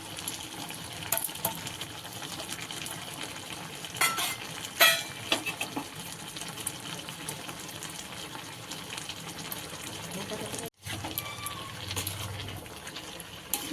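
A spoon stirs jackfruit and prawn curry in a pan after garam masala goes in, a steady soft scraping and gentle sizzle with a few sharper clinks, fairly quiet and close.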